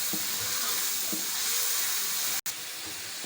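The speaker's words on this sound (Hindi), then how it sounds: "मसाले को अच्छे तरीके से भून लें। इसको तब तक भूनना है जब तक मसाला ऑयल नहीं छोड़ देता।" Spice masala frying in oil for a lauki kaddu curry, a loud, even hiss and sizzle close by with faint stirring knocks and one very brief break.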